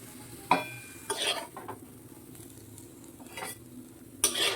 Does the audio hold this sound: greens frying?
yes